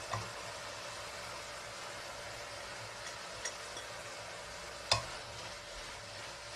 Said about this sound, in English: I fried with onion and kimchi around 2 to 3 minutes.